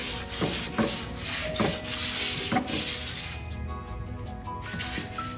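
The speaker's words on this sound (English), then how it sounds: "she's just scuff sanding them for me to get ready to start painting" Wooden chair backs being scuff sanded by hand give repeated rasping strokes in an uneven rhythm, close and moderately loud, before the scratching fades into lighter rubbing.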